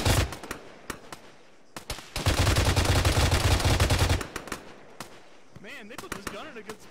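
Heavy gunfire in the video game Arma during a ShackTac session: sustained rapid bursts build into a dense roar for about two seconds, with separate shots cracking before and after, loud and close.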